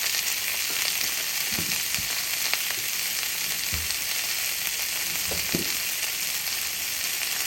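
Pork chops seasoned with salt, seasoning salt and black pepper sear in a hot pan, giving a steady, dense sizzle throughout with a few soft clicks and knocks underneath.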